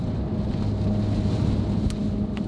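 Strong storm wind gusting outdoors during Storm Denis, a loud rumbling roar buffeting the microphone, with a couple of sharp brief rattles toward the end and no talk.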